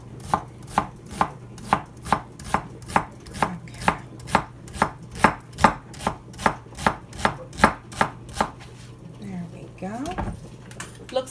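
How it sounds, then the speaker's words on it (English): Onions being chopped on a cutting board in a home kitchen, a steady run of about two dozen evenly spaced knife strikes, close and crisp, over a low constant hum, ending with a brief rustle. "Okay, get this all chopped up."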